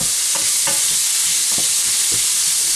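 Red pepper softening in a hot pan, with a steady low sizzle of frying under several distinct scraping stirs of a utensil spaced across the clip, close and clear with no talking.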